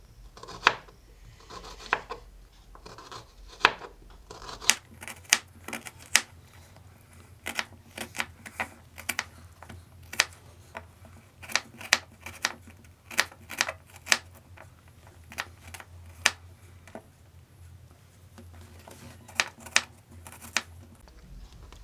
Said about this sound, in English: are going to chop our onions.